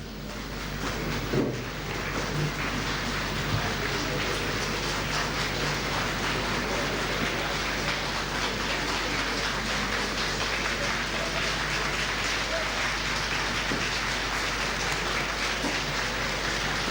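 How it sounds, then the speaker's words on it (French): Applause fills a large hall as the president of the Republic enters the National Council session, a dense, steady patter of clapping from many hands that holds evenly throughout, with no talk over it. "alors que les applaudissements fusent de tous côtés"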